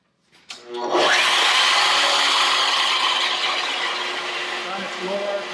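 A router fitted with a drawer lock bit spins up and cuts into wood at low RPM, a loud sustained whine and rasp that holds steady after a brief start-up.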